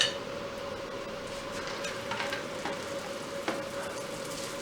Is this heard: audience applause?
no